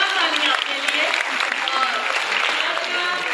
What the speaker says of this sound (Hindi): जोरदार तालियां अपने लिए।